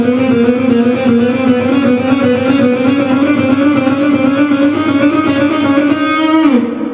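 A distorted electric guitar plays a steady stream of rapidly alternate-picked notes, continuous and loud, before cutting off near the end.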